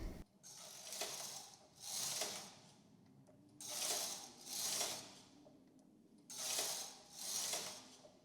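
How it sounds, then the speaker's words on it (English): A Brother single-bed knitting machine carriage is pushed back and forth across the needle bed to knit rows, each pass a rasping, ratcheting sweep about a second long. The passes come in close pairs with brief quiet gaps between them, near and clear with no talk. "For the first section, I will knit 7 rows."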